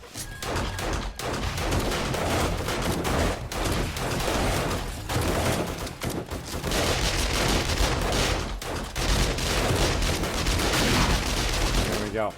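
Automatic turrets in the video game 7 Days to Die fire in a dense, nearly continuous barrage of rapid gunshots. The volley stays loud and close throughout, broken by only a few short gaps.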